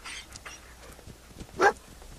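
The dog companion in the video game Fallout 4 gives a single short bark or yip near the end, close and moderately loud over soft game ambience and faint rustling.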